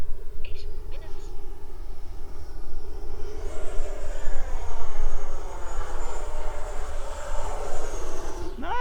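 An FMS 90mm Avanti RC electric ducted-fan jet flies past overhead, a loud continuous whine that rises and sweeps in pitch, ending in a sharp Doppler swoop as it passes close.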